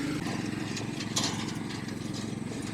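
2020 Toro TimeMaster 30 inch lawn mower running steadily outdoors, its engine giving a continuous pulsing drone at a fairly close distance, with no talking.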